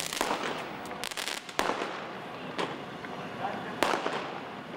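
Fireworks are thrown at police during a street riot, a dense run of crackling bangs and sharp pops over a roaring crowd-like background, fairly loud with several distinct louder blasts.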